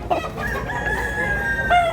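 A rooster crows nearby in a Cebu backyard, one long drawn-out cock-a-doodle-doo that holds steady and ends with a rising note, loud and close over low rumbling background noise.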